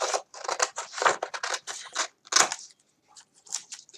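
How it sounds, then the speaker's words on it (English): Scissors snipping through a paper binder divider, a quick series of crisp, close cuts in short bursts with brief pauses between them. "I'll cut that white part too"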